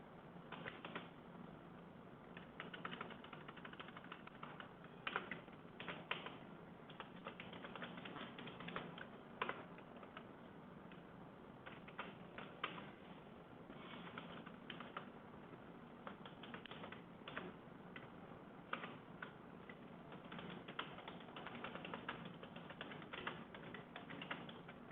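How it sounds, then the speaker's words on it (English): Keystrokes of someone typing a Java program on a computer keyboard, a steady run of soft clicks under a dense background hiss, continuous and moderately quiet throughout. "Yeah, so now we can just type out a basic program."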